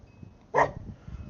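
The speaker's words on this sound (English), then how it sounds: "My daughter's dog." A dog gives a single short bark at a moderate distance, briefly standing out over low background noise.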